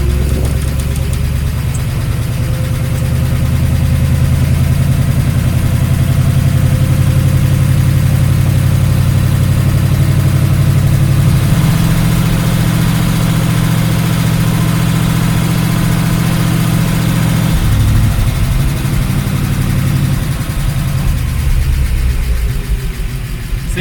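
A 1953 Oldsmobile Rocket Super 88 barn-find V8 runs steadily close by, a loud continuous low rumble with a slight shift in pitch partway through, heard alone without talk.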